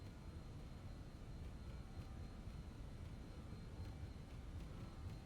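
BAe 146 jet engines roaring during the takeoff roll in Microsoft Flight Simulator, a steady broadband rush with a constant faint high whine, even and unbroken throughout.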